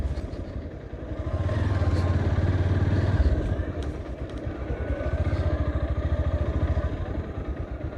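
A motorcycle engine hums close by, swelling louder for a couple of seconds and then settling into a steady, rough drone.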